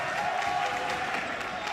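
The Milford home crowd at a high school basketball game keeps up a steady roar of cheering and applause in a gym, a dense, continuous wash of voices.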